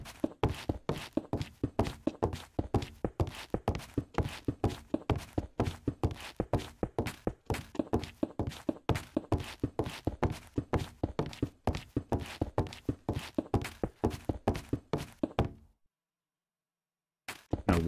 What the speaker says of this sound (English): Was my own footsteps, right?